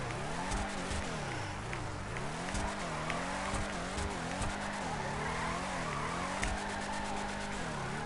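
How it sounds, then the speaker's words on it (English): Continuous drifting of a car in Grand Theft Auto 5, with sustained tire squeal that rises and falls with the slides over a revving engine, steady and fairly loud throughout. "big drifts, like continuous drifting, like this"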